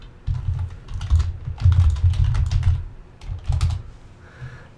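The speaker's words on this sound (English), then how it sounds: "Can I just type, please?" Rapid clattering keystrokes on a computer keyboard come in dense bursts of typing with brief pauses, close and fairly loud, ending in a quieter gap.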